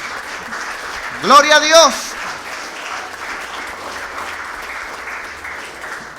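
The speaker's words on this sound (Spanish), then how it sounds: "Damos palmas al nombre de Jesús." A church congregation claps in rhythm during a Spanish-language worship service, steady palms under a loud voice that shouts briefly in the middle.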